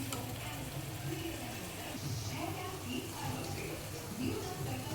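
Chicken sizzling and frying in a pan while being stirred, a steady close crackle with scraping stir sounds and faint background voices.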